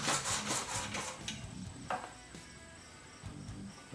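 Coarse 40-grit sandpaper is rubbed by hand over a 1947 Ford street rod's grille, giving rhythmic rasping strokes, quick and close at first, then sparser and softer.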